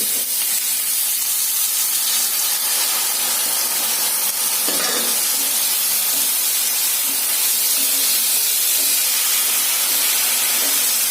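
Rice tipped into hot ghee for mutton biryani sizzles with a loud, unbroken hiss and a single soft clink midway.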